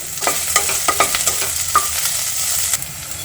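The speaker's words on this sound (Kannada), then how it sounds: "ಎಣ್ಣೆ ಕಾದ್ಮೇಲೆ ಬಾಡಿಸೋದ್ರಿಂದ ಬೆಂಡೆಕಾಯಿ ಲೋಳೆ ಬರೋದಿಲ್ಲ" Okra stir-fried in hot oil, a bright steady sizzle with several sharp spatula scrapes and taps against the pan, close and loud, no voices.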